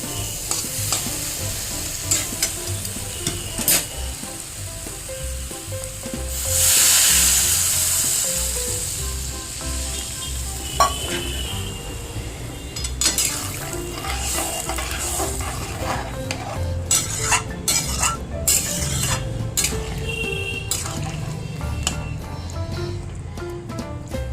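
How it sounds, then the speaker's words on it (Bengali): Water poured into a frying pan of homestyle fish curry with vegetables gives a loud burst of sizzling hiss, amid steady frying and repeated stirring scrapes and clinks that run on through the pan. "এবার এতে আমি জল দিয়ে দেবো।"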